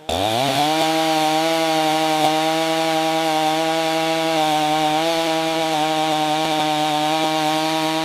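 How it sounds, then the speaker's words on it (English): A chainsaw cuts through heavy redwood logs, its engine holding a loud, steady, buzzing whine for the whole stretch, close and unbroken, with no voices. "The chain must bite through dense, heavy timber"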